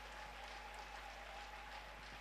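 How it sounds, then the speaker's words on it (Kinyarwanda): A church congregation applauds together in steady, dense clapping that stays faint and distant throughout, with no pause or clear voice standing out. "Niba ubyumvise komera Imana amashyi neza"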